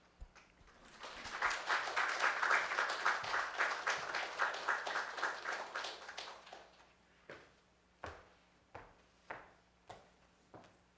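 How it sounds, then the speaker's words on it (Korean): A congregation at a church worship service applauds to welcome a pastor, a dense wave of clapping that swells, then thins into a few scattered, isolated claps. "목사님 나오실 때 박수로 환영의 인사 나누겠습니다"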